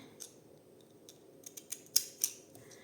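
Scissors snipping paper for a junk journal, a few crisp, close cuts that grow sharper and quicker toward the end, quiet between snips and with no talking.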